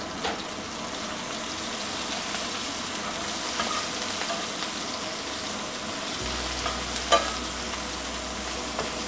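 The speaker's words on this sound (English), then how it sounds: "To the leftover oil in the pan, add a teaspoon of pancha futana and sliced onion." Sliced onion and panch phoron fry in leftover oil in a pan for an Odia fish curry, a continuous busy sizzle with occasional spatters and stirring clicks, fairly close and steady, no voices.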